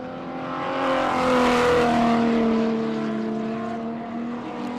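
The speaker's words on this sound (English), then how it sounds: "Listen to that BMW." A stock car, a BMW, races round an oval circuit at a speedway meeting, its engine note swelling as it approaches and passes, then fading slightly, loud and droning with no commentary over it.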